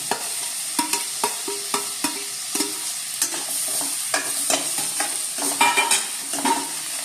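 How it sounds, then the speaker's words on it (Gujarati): Peas and boiled potatoes being stirred in a pan for Mumbai-style bhel; a spoon scrapes and taps repeatedly in a quick irregular rhythm over a faint steady sizzle, with no voices. "હવે આપણે વટાણા નાખી દઈએ અને બટેકા,"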